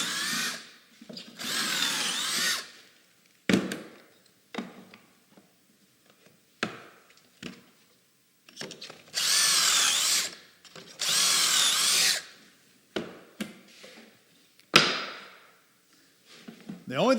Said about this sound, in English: And then I've just got to drill a couple holes.